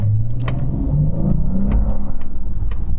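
A Dodge Charger GT engine revs up loudly and close, its deep rumble rising in pitch through a couple of paddle-shifted gear shifts as it accelerates.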